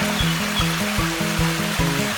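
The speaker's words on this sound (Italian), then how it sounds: "eccoci qua alla fontana del Vaio" Water runs steadily at the Vaio fountain in the Lessini foothills, a close, continuous splashing flow with a faint repeating low rhythm beneath it.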